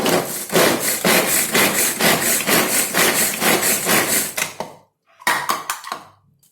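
A manual Home Cheff hand chopper dices carrot rounds, giving loud, rapid rhythmic chopping clatter of blades and plastic housing for several seconds, then a short pause and a few final choppy strokes.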